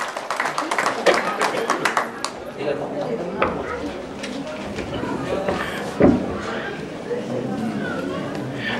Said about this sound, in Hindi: जोरदार से और तालियों द्वारा धन्यवाद देते हैं